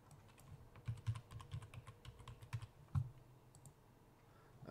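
Someone types a password on a computer keyboard while setting up a Hikvision IP CCTV camera: a quiet, irregular patter of soft key clicks, faint and close, with no talk.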